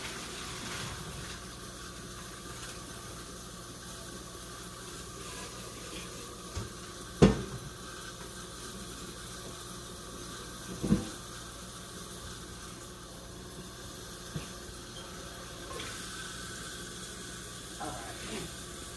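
Hot cooking water is poured off cooked lasagna noodles into a kitchen sink, giving a long steady splash and rush with a few sharp clunks of the pot along the way.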